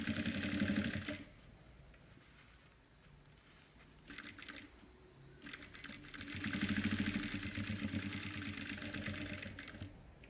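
A sewing machine stitching a fabric organizer, with short bursts of fast mechanical stitching at the start and a longer run later, separated by quieter handling noise, all close and fairly soft.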